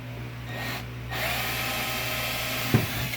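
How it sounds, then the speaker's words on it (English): A power drill boring pilot holes into wood gives a steady, close whine for about three seconds, with a short knock near the end. "Drill 2 pilot holes."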